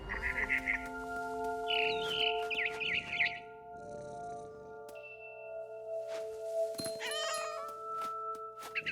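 Cat meows from a game scene in What Remains of Edith Finch, a few short cries over a steady musical drone with chirpy bird-like calls and other effects.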